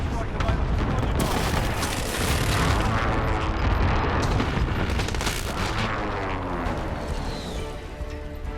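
Cluster airstrike explosions in a video game, a dense continuous roll of booms and crashes lasting several seconds, loud and close, with a voice faintly mixed in.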